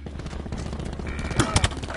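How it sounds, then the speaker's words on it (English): Sentry turret firing in Call of Duty, a burst of sharp gunfire shots mixed with other game sounds and clicks, moderately loud, with rapid cracks clustered near the end. "Sentry turret going on."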